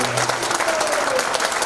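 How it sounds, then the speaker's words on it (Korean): An audience at a Korean memorial broadcast event claps in a brief burst of applause, with a voice and a faint tone heard beneath it. "좀 박수라도 좀 제대로 좀 쳐주세요"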